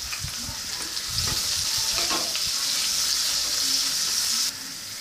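Capsicum and curry leaves fry in a pan with a steady, close sizzle and intermittent stirring scrapes, continuous and fairly loud throughout with no voices.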